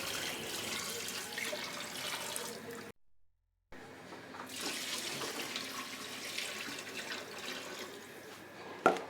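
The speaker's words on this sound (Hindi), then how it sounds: "अब इसमें पानी डालेंगे" Water pours steadily from a tap into a cooking pot while chicken biryani is being made, a continuous close splashing rush that stops briefly, then resumes just as strongly, with a small clunk at the end and no talk.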